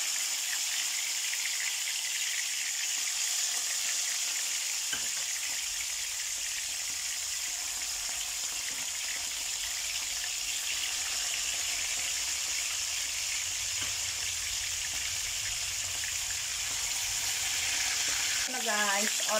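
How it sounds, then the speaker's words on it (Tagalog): Chicken pieces browning in hot cooking oil in a pan give a constant loud sizzle for a long stretch, with occasional faint clinks and a brief stir near the end. "I-brown muna natin yung chicken natin."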